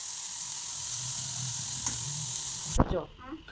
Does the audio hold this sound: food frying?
yes